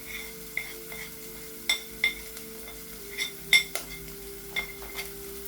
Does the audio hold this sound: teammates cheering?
no